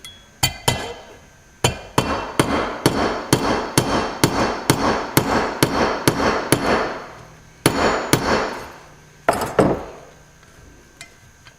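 Repeated sharp metallic hammer strikes on a punch driving out a roll pin on a Ludwig Speed King drum pedal ring out in a steady, fast rhythm, close and loud, pausing briefly before a few final blows.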